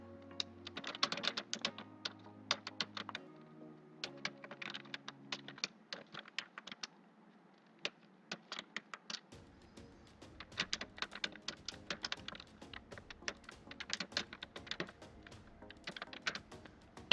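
Rapid keystrokes on a computer keyboard while Java code is typed, coming in uneven bursts with short pauses, close and fairly quiet, with no talking.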